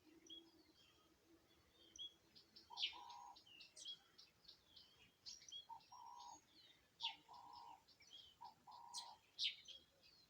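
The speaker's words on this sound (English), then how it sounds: "That's a wild dove" A wild dove calls outdoors, giving several short, soft cooing notes in a loose repeating pattern, quiet and somewhat distant, with other birds chirping faintly around it.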